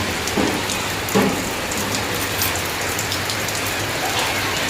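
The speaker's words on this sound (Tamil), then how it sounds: "பாருங்கள், மழை பெய்ய ஆரம்பிச்சிச்சு." Rain beginning to pour, a loud, dense and steady hiss of drops hitting surfaces nearby, with a few sharper patters and no talk.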